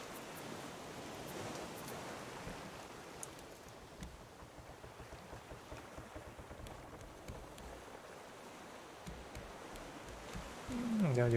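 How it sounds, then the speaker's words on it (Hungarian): Ocean waves in the survival game Raft wash and hiss as a soft, continuous surf, quiet and steady, with a brief tonal game sound at the end. "Hullámzik a tenger."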